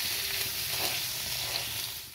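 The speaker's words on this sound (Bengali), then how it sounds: "এবার আলুগুলোকে ভেজে নেব।" Potatoes seasoned with turmeric and salt fry in oil in a kadai, giving a steady, even sizzle throughout with no talking.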